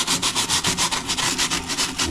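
Stiff bristle brush scrubbing the warm, wet soles of boots in quick rhythmic back-and-forth strokes, close and steady, with no talking.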